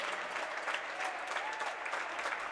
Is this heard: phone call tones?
no